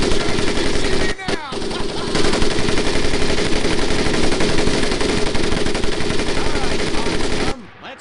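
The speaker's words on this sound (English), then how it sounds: "M1919A4 30 caliber machine gun." An M1919A4 .30 caliber machine gun fires in a World War II Pacific combat video game, loud sustained rapid bursts that continue almost unbroken with a short pause early on.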